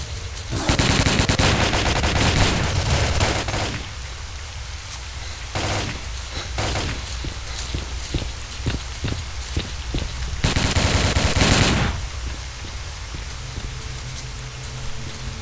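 Rapid automatic gunfire in the shooter game Stalker comes as loud, dense sustained bursts, with shorter separate shots between them and a final heavy burst before the noise tapers off.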